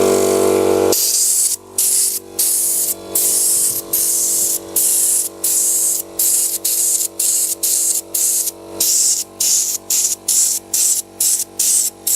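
Compressed-air paint gun spraying in a home shop in repeated bursts, loud and close, each hissing blast a second or so long with short pauses between, over a steady compressor hum.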